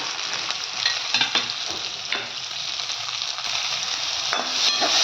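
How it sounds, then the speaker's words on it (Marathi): Field bean pods with turmeric sauté in a hot pan, a continuous bright frying hiss punctuated by spatula scrapes and stirring clicks, close by and unbroken by speech. "त्याला आपण आता चांगलं परतून घेऊ."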